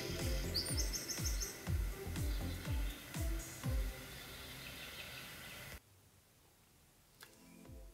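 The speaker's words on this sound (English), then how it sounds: "enjoy listening to the birds, the quietness of this environment" Birds singing outdoors on the grounds of a home in Ajijic, Mexico: repeated chirps and calls ring out fairly close over steady background hum, then fade out, leaving a quiet, sparse stretch, no talk.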